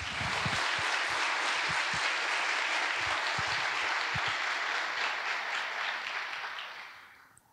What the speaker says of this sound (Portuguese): uma salva de palmas para dizer obrigado por tudo que vocês fizeram